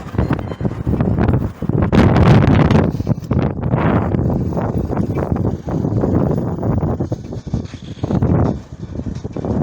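Strong gusts of outdoor wind buffet the microphone, producing loud, continuous low rumbling that swells and dips in waves for nearly ten seconds with no other sound standing out.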